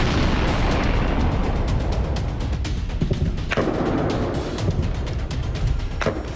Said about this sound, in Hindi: जैसे मिसाइल के धमाके हो रहे हैं,